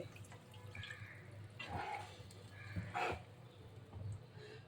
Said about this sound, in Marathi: ते धुवून घेतलं आहे मी व्यवस्थित आणि पाणी टाकून घेते